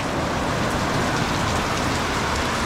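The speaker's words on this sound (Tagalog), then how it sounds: "ang lakas ng ulan ngayon dito sa amin" Heavy rain pours down steadily and loudly, a dense continuous roar of drops on surfaces with no pauses.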